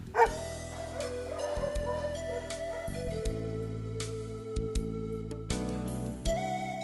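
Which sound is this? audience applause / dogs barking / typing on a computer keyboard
dogs barking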